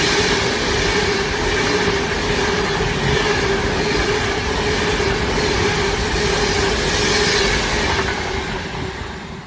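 Continuous rolling rumble and whirring of several OO/HO model locomotives running on a layout in an indoor train room, a steady busy clatter of wheels on track, fairly loud and without talk.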